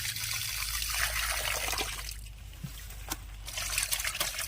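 Water trickles and splashes as it is poured off a batch of freshly caught fish, a steady close pouring stream that thins out and then picks up again.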